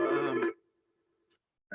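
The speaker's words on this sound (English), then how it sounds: "There's my phone ringing." A mobile phone rings loudly up close with a harmonic electronic tone, then cuts off, leaving a fading hum and brief quiet.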